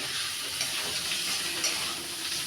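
Papaya frying in a pan on a home stove, giving a steady close hiss and sizzle that runs unbroken from start to finish with no talk.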